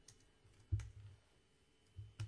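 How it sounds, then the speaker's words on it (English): Sideways typing on a computer keyboard while entering commands in a Git shell, a few soft key clicks and thumps spaced out over a couple of seconds, close and quiet, no voices. "pardon my sideways typing here"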